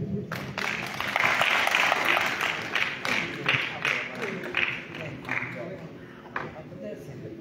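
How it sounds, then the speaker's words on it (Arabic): Audience applause greets a performer at a cultural evening at the Maison de la Culture et des Arts in Jijel, a dense burst of clapping that swells early and then thins out, with some voices mixed in. "تصفيق عليه"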